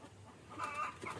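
Chickens clucking nearby in a short burst, a few overlapping clucks rising in the middle over a faint background hum.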